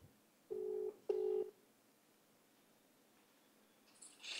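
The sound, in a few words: phone call ringing tone while calling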